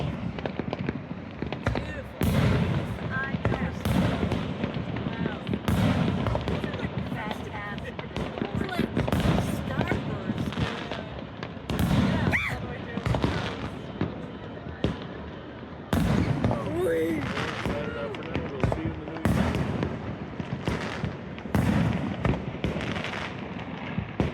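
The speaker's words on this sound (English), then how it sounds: "here's a little clip right now of some of the fireworks and how you can see it from our rooftop" New Year's fireworks heard from a rooftop in San Jose de Manglaralto, Ecuador: a dense, continuous crackle of bangs and pops from near and far, with voices talking throughout.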